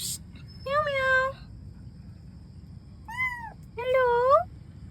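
Abandoned kittens hidden under a parked vehicle let out three separate high, plaintive meows in quick succession, close and clear over a low steady background hum.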